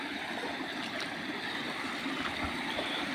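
Water pours from a 4-inch outlet pipe in a farm water-management setup, a continuous close splashing rush that stays steady and fairly quiet throughout, with no speech.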